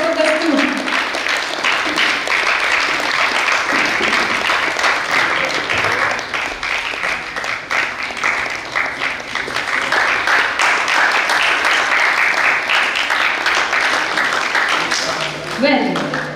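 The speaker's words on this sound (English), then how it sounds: "Can we hear a huge round of applause for Kastu?" A large crowd at a Shivjayanti live canvas painting competition applauds loudly and steadily, a dense continuous patter of clapping, with a voice speaking briefly at the start and end.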